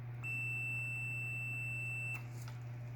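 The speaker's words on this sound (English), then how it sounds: "this one has a nice little buzzer that makes a loud noise when you know that the component is good" A single sustained high-pitched electronic beep from a multimeter continuity buzzer testing a dryer component, lasting about two seconds over a low steady hum, then a faint click.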